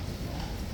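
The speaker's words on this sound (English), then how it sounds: "Now one horse is not happy in the yard as well." Horse hooves clip-clop briefly in a yard among a busy crowd, a quick faint run of hoof beats under surrounding noise.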